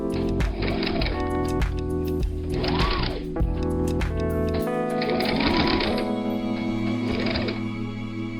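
A sewing machine stitches a strapless dress with half sleeves, running in several rapid mechanical bursts separated by short pauses, close and clear with no talking.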